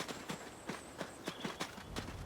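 Horse hooves clip-clop at a steady walking pace on a farm in the video game ADIOS, a series of faint, evenly spaced knocks with no talking.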